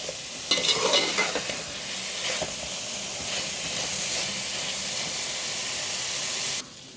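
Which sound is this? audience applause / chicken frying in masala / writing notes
chicken frying in masala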